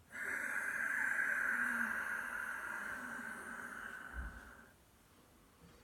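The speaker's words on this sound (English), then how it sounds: "That lovely Ujjayi breath." Ujjayi breathing during a chi kung and yoga session: a long, steady, breathy exhale through the nose with a soft ocean-like hiss, close and alone, fading out near the end.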